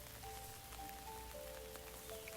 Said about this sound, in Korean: 지붕 위를 타고 오르는 빗물 소리가 잠든 마음 위로 조용히 떨어지고 있었어요.